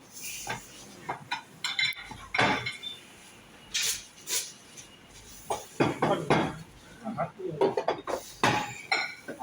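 Cutlery and plates clink and scrape as restaurant food is cut and served to guests, with irregular sharp metallic taps and clatters in bursts, close by, while people talk intermittently.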